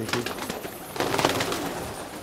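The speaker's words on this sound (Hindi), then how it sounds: "ये देखिए, ये समझिए आप एक्स्ट्रा ऑर्डिनरी कबूतर है" Racing pigeons, including a checker-patterned bird, cooing on an Old Delhi rooftop loft, soft low murmuring coos repeating close by over steady outdoor background noise.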